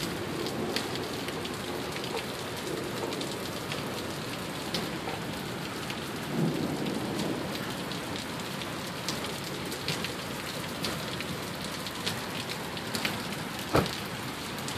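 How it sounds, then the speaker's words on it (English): Heavy thunderstorm rain in Sioux Falls pours down in a steady, dense hiss, drumming on surfaces, with a few louder drops and knocks standing out. "Crazy downpour, huh?"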